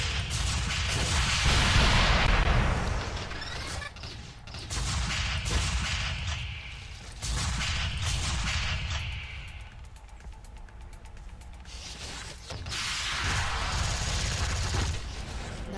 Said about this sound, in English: this is my explosive rifle, which I really love. As you can see, it makes a lovely pop each time you shoot an enemy with it